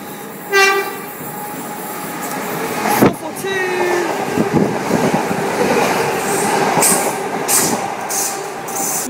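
British Rail class 442 electric train at Clapham Junction, rolling past close by with steady rumble and clatter, a brief squeal and knocks partway through, busy station ambience around it and no speech.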